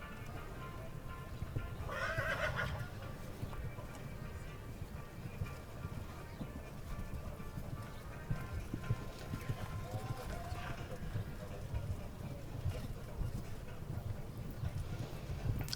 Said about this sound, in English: that grey horse is Tiffany's Gold, a thoroughbred horse